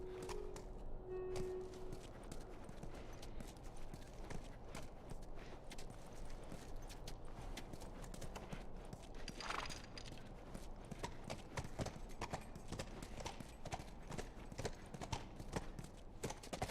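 Horse hooves clip-clop in a steady, continuous rhythm in the video game The Last of Us, quiet and even, with faint background noise throughout.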